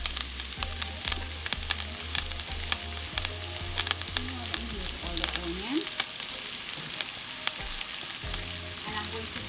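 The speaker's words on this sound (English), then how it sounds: "Saute the onion down, onion, scallion, garlic, thyme, brown on bread." Onion, scallion and garlic sautéing in a pot with meatball drippings, a steady close sizzle and frying crackle with stirring scrapes throughout.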